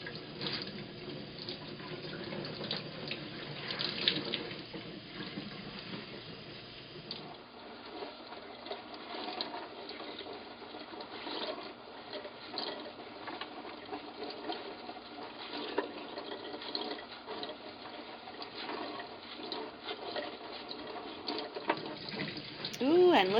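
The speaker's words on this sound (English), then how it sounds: "thoroughly rinse out until the water almost runs clear" Tap water runs steadily into a sink as tie-dyed fabric is rinsed, a constant hissing splash at moderate level with some handling shifts, no talking.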